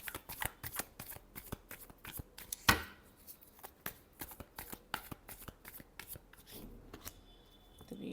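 Tarot cards are shuffled by hand close up in a quick, uneven series of crisp riffling slaps and flutters over about eight seconds, with no talking.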